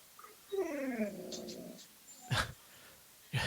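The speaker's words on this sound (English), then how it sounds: "Sound like your dog's getting emotional over there too." A pet dog whines with a rising, wavering cry, close and moderately loud, followed by a couple of sharp knocks or thumps.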